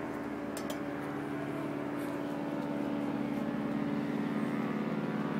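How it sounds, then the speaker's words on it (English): A low-flying airplane passes overhead at night above an outdoor hammock camp, a steady droning hum that grows gradually louder and nearer over several seconds. "I think this plane is going to land on us."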